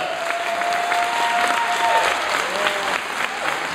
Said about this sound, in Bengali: সুধীমণ্ডলী, জোরালো করতালির মাধ্যমে অভিনন্দন ওদেরকে